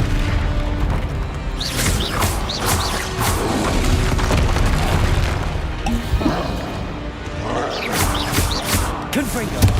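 Confringo explosive spells cast in Hogwarts Legacy on PC, giving repeated booming bursts and crackling blasts over a busy game-combat soundscape with other spell effects in between.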